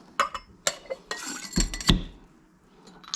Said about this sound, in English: I'm going to shake that up with some ice.